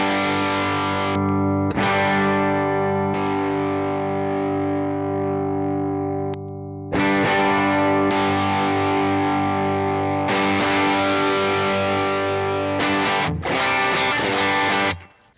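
Electric guitar played through an overdrive pedal with the drive turned up high, producing loud, thick, sustained distorted chords that ring out alone, with brief pauses and a muddy, saturated character.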